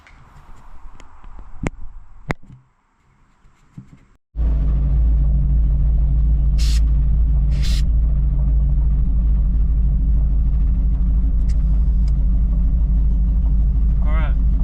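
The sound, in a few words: 1960 Chevy Bel Air car starting and driving off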